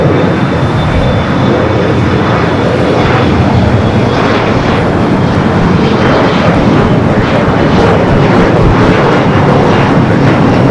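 Air France airliner at LAX, a loud, close, sustained roar with deep rumbling and pulsing broadband wash that swells in waves, continuous with no voices.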